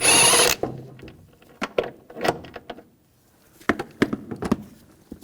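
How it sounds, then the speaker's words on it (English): A 16mm socket wrench working a bolt loose on a 2004-2009 Audi A4 Quattro during front upper control arm replacement: a short loud whirring burst, then scattered metallic clicks and clanks at close range, with no talking. "I'm going to take this bolt out. Use a 16mm socket."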